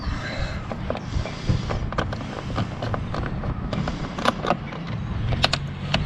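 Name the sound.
unscrewing toolbox screws on KTM 1290 Super Adventure R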